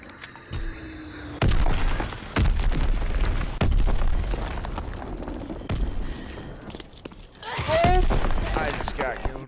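Azon bomb strike explosions in a World War II combat video game, several heavy booms and bursts that rumble loudly across the clip, with a voice talking near the end.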